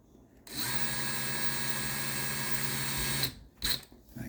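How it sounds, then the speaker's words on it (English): A power drill spins up and runs steadily for nearly three seconds drilling holes while fitting a CF card in a floppy bay, then stops and gives a brief second buzz. "And we drill our holes"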